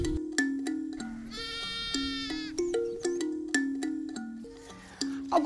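Sheep at the Lages experimental farm station bleat repeatedly, with several wavering, sustained calls from nearby animals following one another in an uneven rhythm over a quiet background.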